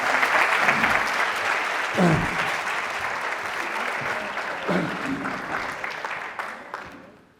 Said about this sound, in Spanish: Un aplauso muy fuerte para Vanessa.